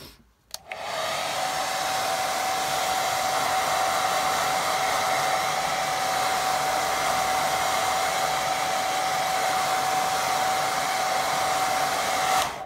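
A hair dryer blows steadily and loudly across a wet watercolour painting of greens and blues, starting abruptly and running without a break for about twelve seconds, with a constant whine over the rush of air.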